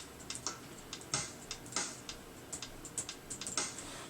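Light, quick computer keyboard typing used as GarageBand musical typing: irregular clicks and taps, close and fairly quiet, with no voices.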